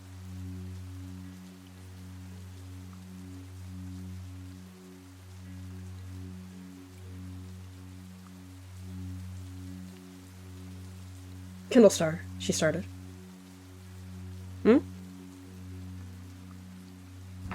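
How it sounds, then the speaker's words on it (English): Steady, soft rain in Warrior Cats: Ultimate Edition, a constant wash over low background hum. Brief spoken voice lines cut through near the end. "The prey is getting soaked with this non-stop rain"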